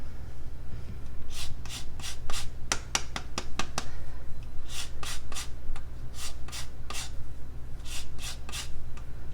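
A lemon is scraped across a grater in repeated quick rasping strokes, some in fast bursts and others spaced evenly, close and clear over a low steady hum, with no talking.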